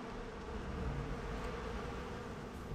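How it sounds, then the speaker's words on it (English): Swarming bees in the Far Cry 4 video game buzz loudly and continuously, a dense, close droning hum with no voices over it. "Those bees are lethal."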